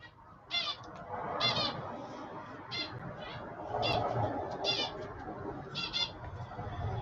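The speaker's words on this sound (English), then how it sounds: "Just keeps chirping and chirping and chirping." A pet bird chirps repeatedly in short bright bursts through a room, its calls recurring every second or so over a steady background murmur.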